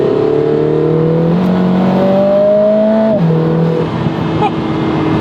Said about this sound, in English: For a 4-cylinder, it is really loud. Those turbo sounds.